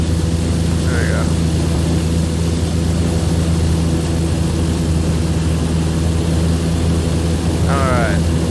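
A propeller airplane drones steadily during takeoff in the X-Plane VR flight simulator, a loud continuous engine hum throughout, with brief chirping sounds near the start and end.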